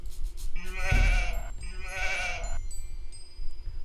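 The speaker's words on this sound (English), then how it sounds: "let's bring these sheep back" Sheep in the Age of Empires 2 HD video game let out two bleats in quick succession, clear and close over a low steady game ambience.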